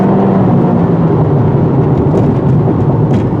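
A 2022 Honda Civic Si turbo hatchback accelerates hard, its engine a steady, loud drone that sits close and dominates throughout, with no voices over it.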